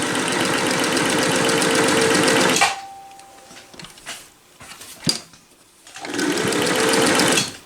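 A Singer Touch and Sew 758 sewing machine, run barefoot on its foot pedal, stitches in two loud, steady bursts of rapid needle clatter at the start and end, with a quieter pause of faint clicks and handling noises between.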